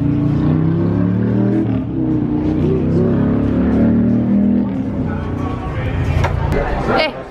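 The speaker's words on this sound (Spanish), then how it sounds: "Y las motos, hoy que es el día de las motos" Motorcycles on a street on motorcycle day, engines droning with rising revs and passing sweeps, loud and close, with people talking over them near the end.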